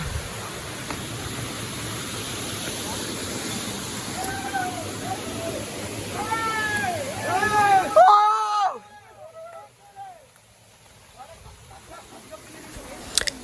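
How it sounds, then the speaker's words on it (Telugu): The second step of Dallapalli waterfall gives a steady rushing hiss of falling water under people's voices, then abruptly drops to a much quieter background. "ఇదిగోండి మీకు ఇక్కడ కనిపిస్తుంది కదా ఇదే సెకండ్ స్టెప్ వాటర్ ఫాల్స్"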